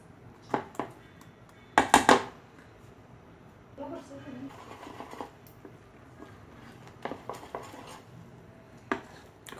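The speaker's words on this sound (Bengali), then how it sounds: "খুব ভালো করে ফেটে নিচ্ছি" Risen yeast batter with vegetables being whisked in a bowl, giving bursts of clattering utensil-against-bowl scraping and tapping in irregular clusters, with quieter mixing between, fairly close and alone.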